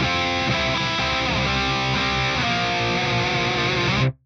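Distorted electric guitar in drop C tuning playing a dyad riff, the low note ringing beneath repeated two-note chords, loud and dense, then cutting off abruptly at the end with no speech.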